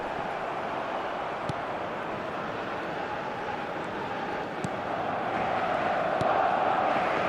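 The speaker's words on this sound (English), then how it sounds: "the crowd are reacting to that now" A large football stadium crowd rumbles in a steady, distant roar that swells slightly toward the end, with no single voice standing out.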